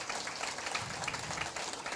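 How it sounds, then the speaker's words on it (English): A conference audience claps together in a dense, steady wash of applause, moderately loud and continuous with no talking. "Communication through claps and power through the noise of your claps."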